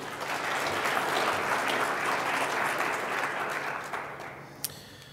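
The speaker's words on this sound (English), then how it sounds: "a round of applause for those who worked on it" An audience applauds steadily for the people who wrote a new mission statement at a morning forum session. The clapping is dense and continuous, fading slightly near the end.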